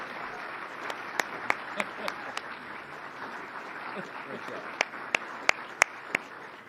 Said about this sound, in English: The whole HHS team deserves that same round of applause.